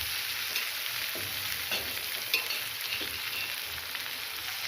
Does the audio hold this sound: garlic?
yes